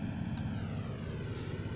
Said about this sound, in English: Getting ready to land our plane.